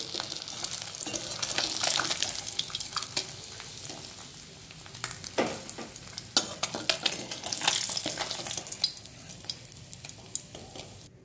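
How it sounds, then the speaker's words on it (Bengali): Oil sizzles and crackles around lightly frying fish pieces, with occasional clinks and scrapes of a utensil stirring in the pan. "মাছগুলোকে ঠিক এইরকম হালকাভাবে ভেজে নিচ্ছি"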